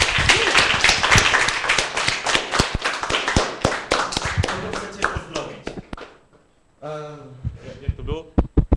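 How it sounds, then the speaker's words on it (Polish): Audience at a workshop breaks into dense, lively clapping that fills most of the stretch and thins out into scattered claps, followed by a single voice speaking near the end. "Chyba czas na klaskanie"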